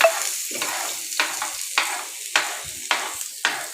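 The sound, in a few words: frying in a pan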